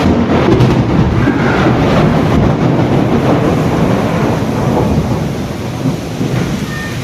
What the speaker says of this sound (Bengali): দেখছো কিরকম বজ্রাঘাত করছে,